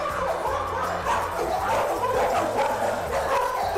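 Many dogs barking and yipping together in a kennel, a dense, continuous, loud chorus of overlapping barks and whimpers close by.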